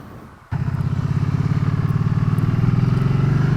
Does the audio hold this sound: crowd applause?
no